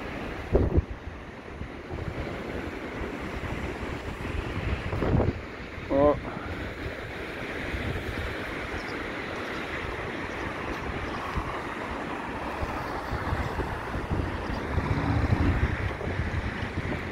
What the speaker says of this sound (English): the wind just gathers, you know, around here.